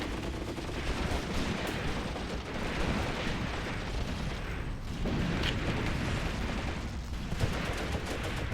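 Dense, continuous gunfire and explosions from the WW2 tactical game Graviteam Tactics: Mius Front, with overlapping shots and booms forming a steady loud battle wash for the whole stretch.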